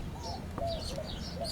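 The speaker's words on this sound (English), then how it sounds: "You can hear the birds." Birds chirping and cooing outdoors around a porch on an Arizona homestead, with soft coos and short bright chirps overlapping at moderate distance against faint background noise.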